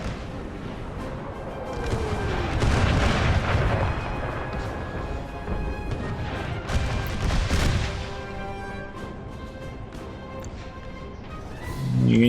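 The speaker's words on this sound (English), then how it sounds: "Those two artillery rounds left streaks behind like they were missiles or something." Artillery rounds fire in an American Civil War video game battle in a wilderness setting, including 12-pounder Napoleon cannon batteries, with several deep booms and rumbling blasts rolling through the scene, loudest early on and fading toward the end.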